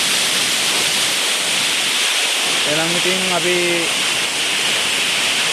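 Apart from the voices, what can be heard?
Beerigan waterfall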